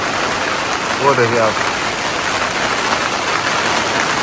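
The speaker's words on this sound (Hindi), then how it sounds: "खतरनाक तूफानी ओले पड़ रहे हैं" A violent hailstorm pouring down outside, a dense, loud and steady patter throughout, with someone speaking briefly over it near the start.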